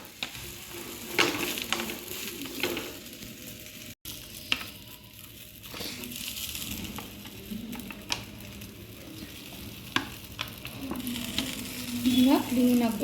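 Hesarukalu obbattu flatbread cooking on a hot griddle, a steady soft sizzle throughout with occasional faint scrapes and taps, quiet and close.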